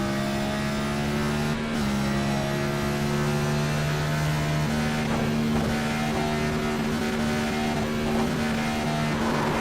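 Race car engine in iRacing at Sonoma spinning donuts after the race, a steady droning engine tone held throughout with a brief shift near two seconds, loud and close with no talking.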